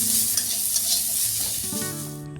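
Shredded cabbage with a little ginger paste fries in a wok with a bright, steady sizzle and some stirring. The hiss eases off near the end as a few faint tonal hums appear.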